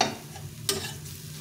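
Masala mixed with ground chana dal paste frying in a pan, a steady soft sizzle with a light scrape of stirring and one brief sharper clink near the middle.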